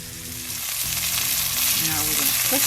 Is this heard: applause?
no